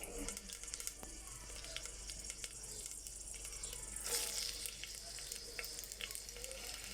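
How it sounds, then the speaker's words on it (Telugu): Vegetables fry in oil with green chillies and curry leaves, a steady, close sizzle with light stirring scrapes and a brief louder hiss midway. "దీన్ని ఇప్పుడు వెజిటేబుల్స్ అన్నిటిని ఫ్రై చేసుకున్నాను."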